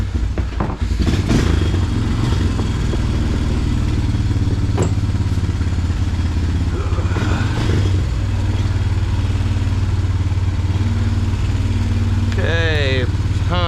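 A Honda Recon 200 ATV engine idles steadily after a carburetor cleaning, a loud close low rumble with a few clunks, and a voice speaks briefly near the end.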